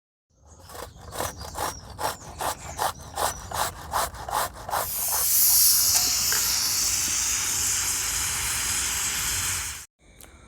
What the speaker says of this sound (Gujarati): ટામેટાનું ગ્રેવી બનાવવા માટે આપણે ટામેટાં આ રીતે ખમણી લઈશું.